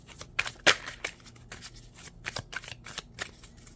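A tarot deck is handled at close range, with a quick series of crisp card flicks and riffles, one sharper snap near the start, and no voices.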